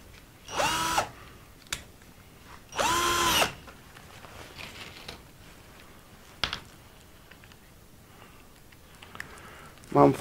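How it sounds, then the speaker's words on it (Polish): A cordless screwdriver drill drives a small fuel pump to drain petrol from a Fiat 126p, giving two loud whirring bursts of about a second each, followed by quieter clicks and handling noises. "Mam wkrętarkę."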